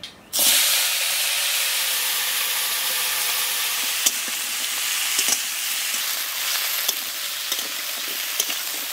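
Cut potatoes and greens stalks hitting hot oil tempered with cumin seeds, a loud sudden sizzle that settles into a steady, dense hiss of frying with occasional faint clicks.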